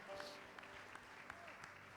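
A church congregation applauds steadily during a service, a dense patter of many hands with a few louder claps standing out and a voice faintly present underneath.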